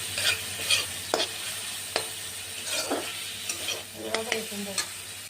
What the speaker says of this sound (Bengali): চিংড়িগুলোকে দিয়ে ভালো করে মিক্স করে নেব